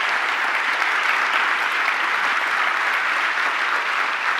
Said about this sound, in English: Let's give Dr. Becker a round of applause.